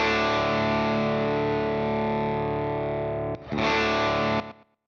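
Slightly dirty clean electric guitar tone from an amp modeler with slapback delay, a held chord sustaining, a short gap and restrike, then fading out at the end.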